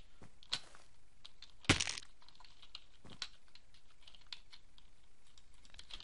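Frantic typing on a computer keyboard during Minecraft play: rapid, irregular clicks and taps, fairly faint and close, with one sharper loud clack near the start.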